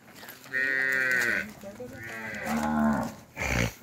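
Cows that have recently calved moo loudly and close by while being driven into a corral, three drawn-out lowing calls in a row with short pauses between.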